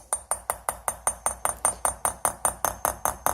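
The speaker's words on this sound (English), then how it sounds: "So I'm just going to pick up into the old lines here, make sure my flat side of the chisel is facing the inside of the curve." Steady, evenly spaced metallic taps of a hammer driving a chisel into a vessel to carve lines, about five strikes per second, close and bright with a slight ringing tone, no voices.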